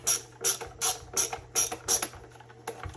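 A screwdriver backs screws out of a Onewheel Pint X foot pad with a close, rapid ratcheting click. It comes in about six short, evenly spaced bursts, then softer clicks trail off.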